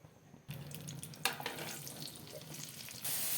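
Potatoes frying in oil in a pan while cooking a cabbage dhoka recipe, a quiet start giving way to a soft hissing sizzle with light crackles and stirring, fairly faint and close, no talk.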